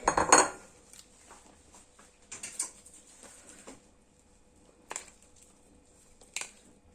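Ceramic and metal clatter as a bowl is pulled out for ricotta cheese, a sharp clinking burst at the start followed by scattered lighter knocks and rattles with quiet gaps between them.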